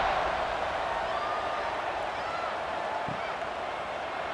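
A steady roar of stadium crowd noise fills a college football game in EA Sports College Football 26, Maryland at Kansas State, with a constant broad wash of cheering carrying on unbroken throughout.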